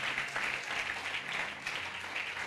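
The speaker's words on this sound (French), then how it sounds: "Est-ce que nous capable applaudir l'ange de l'église ensemble avec madame?" A church congregation applauds together during a worship service, continuous dense clapping filling the room with a steady roar and faint tones in the background.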